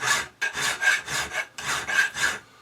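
Metal bar ends being deburred, heard as a close, loud rasping of about seven even back-and-forth strokes with brief pauses, during refurbishment work on a Piper Supercub.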